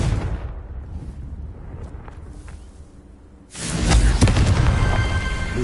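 A Confringo spell explodes in the video game Hogwarts Legacy. A quieter rumbling stretch gives way to a sudden loud, booming blast that keeps roaring with crackling debris.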